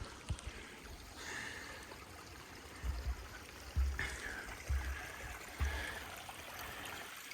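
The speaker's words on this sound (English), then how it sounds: "Little creeks that come down from the summit." A small mountain creek running down from a summit, a soft, steady trickle and babble heard close by, with faint low thumps from nearby movement.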